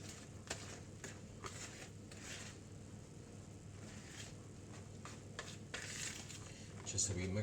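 A spoon stirs chocolate brownie batter in a mixing bowl, giving soft, steady scraping and occasional clinks against the bowl, fairly faint and continuous over low room hum.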